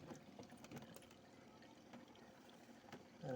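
Water flows through an Aqua Jade RO water filter after installation, a faint, steady low trickle that runs quietly throughout with no voices.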